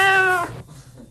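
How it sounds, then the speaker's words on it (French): A cat gives a single clear, fairly loud meow that fades into quiet room sound. "C'est un chat."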